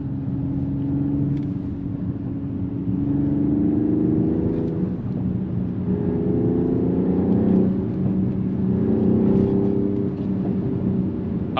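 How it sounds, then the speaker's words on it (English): A 2024 AMG GLE 53 SUV's 3-liter inline-six turbo mild-hybrid engine drones steadily from inside the cabin, its low tone rising and falling as it revs, with faint crackles that could be exhaust pops under the hum. "you can feel the pops in the back. I hope they're coming through on the camera, but such a nice engine. This 3-liter inline 6 turbo with mild hybrid,"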